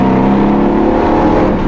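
Shelby GT500 Eleanor engine revving hard past 4000 rpm, a loud, dense, continuous V8 roar heard close up from inside the car, sustained for the whole moment with no speech.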